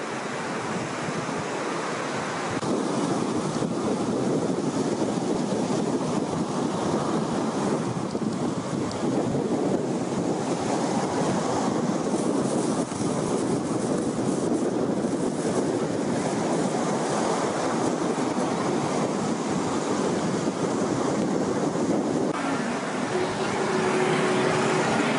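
Evening waves on the beach at Cha Am, Thailand roll and crash continuously, a broad, full surf roar close by, with no one speaking over it.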